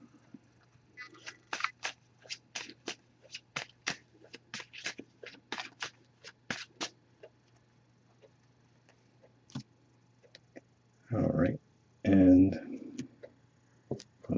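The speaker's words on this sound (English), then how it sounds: "I'm just going to give this a few shuffles." An oracle card deck is shuffled by hand in a rapid series of crisp riffling clicks over several seconds, close and clear, followed by louder handling noises near the end.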